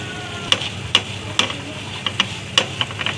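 Minced garlic and flour frying in a pan as a spoon stirs them: sharp scraping taps at an irregular, fairly quick rhythm over a soft, steady sizzle, close and fairly loud, with no talking.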